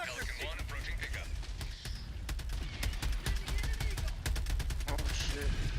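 Rapid automatic gunfire in the co-op shooter Helldivers, dense repeated shots that grow louder toward the end, with voices talking over the battle.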